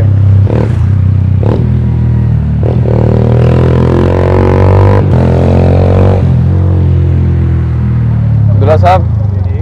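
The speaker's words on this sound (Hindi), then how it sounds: "अभी मोटरसाइकिल थे अब्दुल्ला की हैवी बाइक पे." A heavy motorcycle rides along a street during Eid al-Adha, its steady engine drone loud and close with rattling clatter and passing bumps, while people talk over it throughout.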